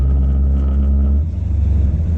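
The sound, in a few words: car engine revving during a burnout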